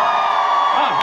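A large concert crowd screams and cheers in a sustained, loud roar at a show at MP2 in Poznan, Poland.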